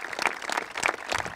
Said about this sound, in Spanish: Así que un aplauso también a todos ellos.